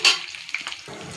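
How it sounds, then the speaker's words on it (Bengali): Potatoes and meat frying in a pan, with chilli and onion, sizzling in a short close burst that is loudest at the start and then settles into a softer steady crackle, with no talking. "এখানে আলুটাও ভাজা হয়ে যাবে, আমার মরিচটা পেঁয়াজটাও ভাজা হয়ে যাবে"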